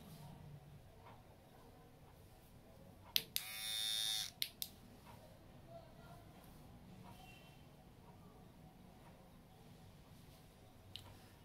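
A Laforte electric trimmer switches on briefly, a short high-pitched buzzing whir of about a second framed by sharp clicks, in an otherwise quiet indoor room.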